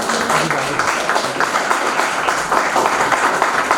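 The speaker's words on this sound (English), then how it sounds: "Can we have a big round of applause?" An audience at a university felicitation ceremony gives a big round of applause, a busy, continuous clatter of many hands with a few sharper individual claps, heard fairly close throughout.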